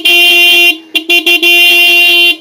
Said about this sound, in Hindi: ये हॉर्न है जो उसमें लगा दें D70 के